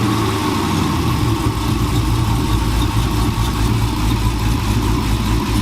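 A big V8 engine rumbles loudly and steadily, with a lumpy, pulsing idle and slight swells in pitch as it gets a small rev.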